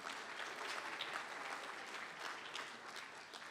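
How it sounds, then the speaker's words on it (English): A university convocation audience claps for new employees joining for the fall semester, a steady, even round of applause with no voices standing out. "A big round of applause for all those who are joining us this year."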